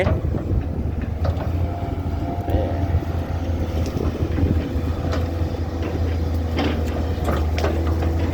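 Strong wind blasting across an outdoor microphone at a pond-digging site where excavators are working, a loud constant roar with a deep steady rumble underneath and faint clanks now and then.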